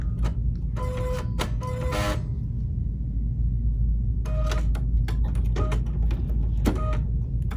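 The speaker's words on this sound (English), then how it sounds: "now she's going to push the threading button that's illuminated" A Bernina 880 Plus sewing machine runs its automatic needle threader, giving bursts of rapid mechanical clicking and whirring close by over a constant loud low hum, with no talk.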